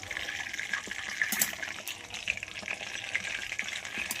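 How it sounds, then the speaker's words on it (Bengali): Raw mangoes frying in hot oil over a medium flame, a soft continuous sizzle and bubbling with occasional light clinks, fairly quiet and with no voices. "এই সময় আঁচটা মিডিয়ামে রেখে আমগুলো খুব ভালোভাবে ভেজে নিতে হবে"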